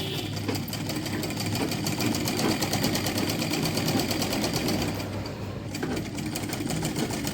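A sewing machine stitches piping onto the sleeve of a child's baba suit (jhabla) with a fast, steady mechanical whir, briefly easing off before resuming.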